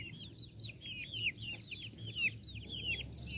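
A small flock of Xin Xing Dian chicks keeps up high, rapid peeping and chirping, many overlapping calls close by with faint background noise.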